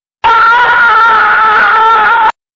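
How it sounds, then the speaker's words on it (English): A man lets out a single loud, sustained scream lasting about two seconds, steady in pitch, alone against silence. "a man's scream came from behind"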